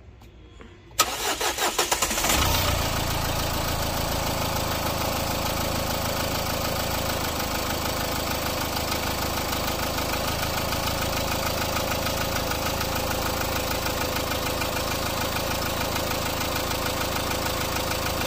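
A car engine with a freshly replaced bearing and a coolant-oil mixing fault cranks briefly and catches, then settles into a steady, close, loud idle with a faint rhythmic knock running throughout.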